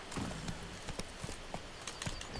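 Roach, the horse in The Witcher 3, trots with repeated hoof clops in an uneven rhythm, moderately close and fairly quiet over a constant background hiss.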